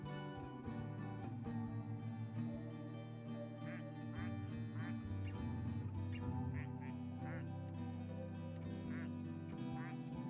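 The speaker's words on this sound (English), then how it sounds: "Some of them have got their own unique quacks as well." Plastic toy ducks quack in Placid Plastic Duck Simulator, a video game, with several short nasal quacks scattered across a steady layer of music and ambient sound.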